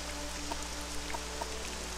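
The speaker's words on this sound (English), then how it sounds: "And it's still raining." Rain falls in the game Morrowind, a steady, even hiss of drops with faint scattered patters over a low constant hum, moderately quiet and without voices.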